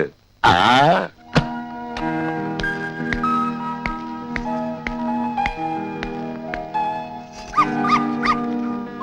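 A dog gives a couple of sharp yelping barks near the start, followed by a long ringing, tonal background that carries on to the end with a few soft knocks.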